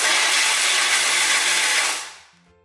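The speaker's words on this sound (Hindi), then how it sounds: "अब इसको हम दरदरा पीसेंगे" Electric grinder coarsely grinding roasted white sesame seeds, a loud steady high whir running for about two seconds and then spinning down to quiet.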